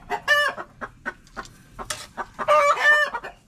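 Several chickens clucking nearby in short, irregular bursts, with a louder squawk near the end.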